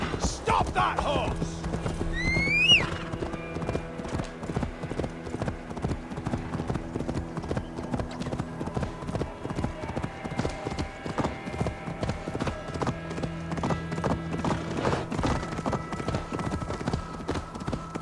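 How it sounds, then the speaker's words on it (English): A horse galloping in the video game Assassin's Creed Valhalla, with rapid continuous hoofbeats, a brief whinny near the start and busy game sound throughout. "Stop that horse!"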